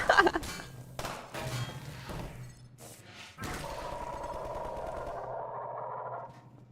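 Sniper gunfire in the video game Half-Life: a few sharp, loud shots with echoing tails early on, followed by a steady droning ambient hum that continues to the end.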